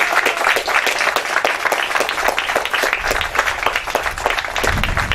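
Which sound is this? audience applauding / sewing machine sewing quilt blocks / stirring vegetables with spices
audience applauding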